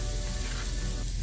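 Halved baby potatoes hitting a hot oiled pan, a loud, steady close-up sizzle and crackle of frying with no voices over it.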